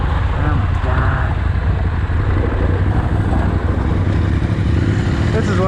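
A motorcycle engine hums steadily and close throughout on a twisty backcountry route, with a constant low rumble and rushing wind as it rides along.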